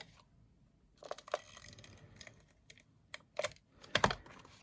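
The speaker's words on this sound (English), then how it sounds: "Just run the bone folder there." A bone folder is run firmly over a paper gift bag, giving several short, dry scraping and rustling strokes that grow louder toward the end. The sound is close and quiet, with no voices.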